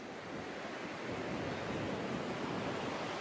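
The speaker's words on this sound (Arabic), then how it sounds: "انا في البحر والبحر" Sea waves wash onto the shore in a soft, continuous surf hiss that stays faint and even throughout, with a touch of wind and no voices.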